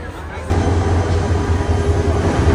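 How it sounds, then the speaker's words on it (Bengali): The Jayantika Express rolls into a railway station in Bangladesh, a loud, deep, steady rumble that swells in suddenly after a brief quieter moment and then holds, with a voice faintly underneath. "আর ট্রেন চলে আসছে,"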